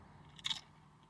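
A single crisp bite into a Fat Sack sour cream and ranch potato chip, one short crunch near the middle, close and quiet with no talk.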